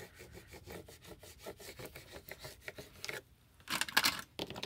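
A bone folder rubs contact paper down in a series of quick, rhythmic scraping strokes, close and fairly quiet, ending in a louder, harsher burst of rubbing.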